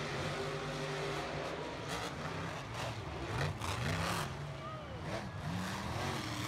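Monster trucks race at a Monster Jam event, their engines rumbling and revving with rising and falling pitch over a steady arena roar, and a commentator talks over the noise.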